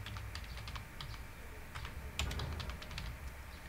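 Keys clatter on a computer keyboard as a Python print statement is typed, a quick irregular run of light clicks in small bursts, close and clear over a low background hum.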